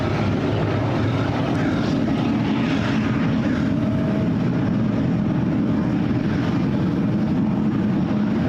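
Up close at SFO, a Boeing 777 airliner gives off a loud, continuous jet engine roar and rumble that holds steady and unbroken throughout.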